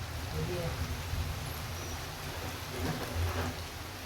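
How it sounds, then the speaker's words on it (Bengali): Rain falls steadily as a soft, even hiss through the whole stretch, with faint voices in the background. "পাঁচ মিনিট আগেই বৃষ্টি শুরু হলো"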